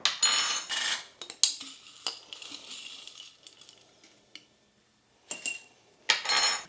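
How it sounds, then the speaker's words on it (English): Chopped onions and peppers are spooned into a dish, giving a few bright metallic clinks and scrapes of a tablespoon against the dish in short bursts, with quieter handling noises between. "I'm going to put a tablespoon of each of the onions and the peppers"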